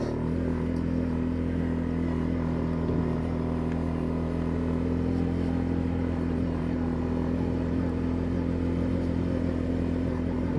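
Suzuki Eiger 400 ATV engine running steadily in high range and two-wheel drive, a continuous low droning hum with a constant pitch, close and even throughout on a wet fall day, with no voices.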